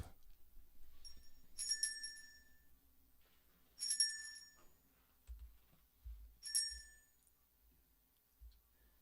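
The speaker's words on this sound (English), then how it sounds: "I believe I forgot to ring the bell." A hand bell is rung three times with a few seconds between each, every strike a bright, ringing chime that fades slowly in an otherwise quiet room.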